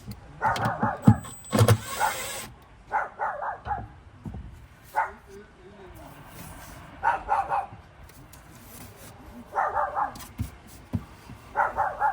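A dog barks in short bursts at intervals, a little distant, over low outdoor rumble and scattered knocks.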